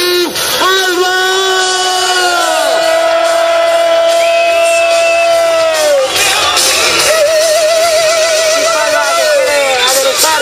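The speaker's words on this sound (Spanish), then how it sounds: "Un fuerte aplauso para la leyenda viva, Steve Alba." A crowd at a skatepark bowl contest in Getxo cheers loudly, with whoops, yells and shouting voices rising and falling over a constant roar throughout.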